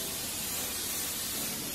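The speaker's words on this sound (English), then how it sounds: "Spray our baking tin." Cooking spray hisses steadily onto a baking tin for brownies, a close, even burst of spray that lasts just under two seconds.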